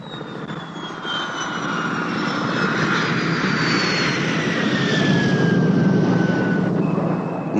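Supersonic military jet aircraft engines roar loudly and steadily, the whine and rumble building as the jets pass close by, with no voices.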